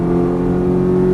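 A Ferrari F430 engine drones loudly and steadily on a race track under throttle, a close, even mechanical hum with no voices.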